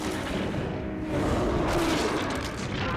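Friendly gunfire in Resident Evil 4, heard as a dense, continuous rumble of booming shots and blasts that holds steady and loud throughout, without speech.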